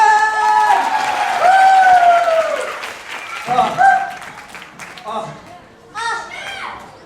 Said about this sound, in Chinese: 给非洲鼓的一个掌声！